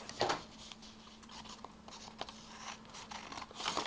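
A card being cut with scissors in a quiet studio, heard as a series of faint, close snips and rustles spread irregularly across several seconds.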